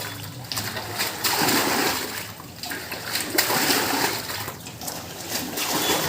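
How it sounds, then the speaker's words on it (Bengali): Floodwater is scooped and tossed out of a flooded village house with a bucket, giving repeated loud splashes and sloshing water close by in an irregular rhythm. "উনি এইভাবে জল শেষে বাড়ির ভেতর থেকে বার করছেন বালতি দিয়ে"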